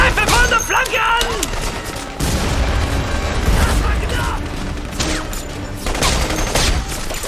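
Loud gunfire in the 2009 video game The Saboteur, repeated bursts and booms in a dense, chaotic firefight with shouting voices mixed in.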